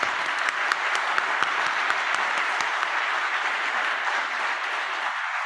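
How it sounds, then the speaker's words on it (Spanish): Audience at a clinical case session and closing ceremony applauds the three speakers, with broad, steady clapping from a large crowd that holds evenly throughout and a few sharper claps standing out near the start. "Quiero, por favor, que den otro aplauso a los tres ponentes"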